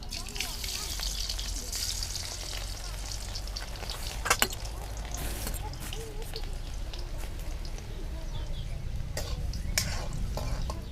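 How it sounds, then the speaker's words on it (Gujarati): Garlic cloves and cumin seeds frying in hot oil for a dhaba-style sev tameta curry, a dense continuous crackling sizzle with scattered sharp pops and spatters throughout. "હવે લસણની કળીઓ નાખી દઈશું."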